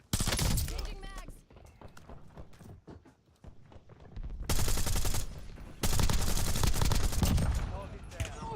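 Bursts of rapid automatic gunfire in Call of Duty Warzone, loud close volleys broken by quieter stretches, with speech-like game chatter mixed in.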